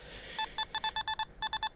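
Nokta Makro Simplex metal detector beeping as its coil sweeps over a target: a quick run of about ten short, clean electronic tones in rapid succession, with a brief gap partway through, fairly faint over low background hiss.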